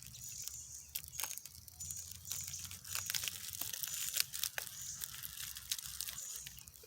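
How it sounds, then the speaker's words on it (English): Tape on axe box packaging being cut, with faint crinkling, tearing and scratching sounds in short irregular bursts, quiet and close, with no voices. "After we cut the tape on the bulb end, a very shallow cut right here."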